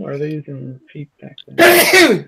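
A single loud, sharp sneeze bursts out right after a stretch of speech.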